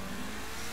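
An engine revs steadily in Grand Theft Auto V, a continuous mid-pitched car drone held at even loudness, close and alone throughout.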